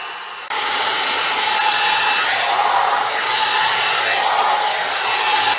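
A Lange Le Volume hair dryer brush runs steadily and close by, a continuous airy whoosh that starts abruptly after a brief quiet moment and holds at an even, loud level throughout.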